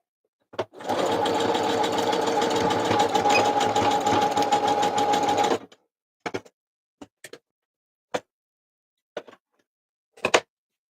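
A sewing machine runs a zigzag stitch in one steady whirring, clicking burst lasting about five seconds, followed by a few brief ticks and clunks of handling in otherwise quiet surroundings.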